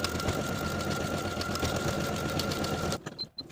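A sewing machine stitches a buttonhole into the right front waistband of fly-front pants, a steady loud rapid whir that cuts off abruptly near the end, followed by a few faint clicks.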